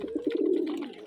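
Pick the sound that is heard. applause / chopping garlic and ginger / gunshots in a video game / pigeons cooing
pigeons cooing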